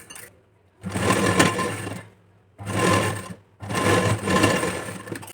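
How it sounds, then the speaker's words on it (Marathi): Sewing machine running in three bursts while stitching a folded blouse strip with long basting stitches, each run a steady close whirring with brief quiet pauses between, no talk. "फक्त ही पट्टी दुसऱ्या बाजूने फोल्ड करायची आणि याच्यावरती जी आहे एक मोठ्या टाक्याची स्टिच करून घ्यायची आहे"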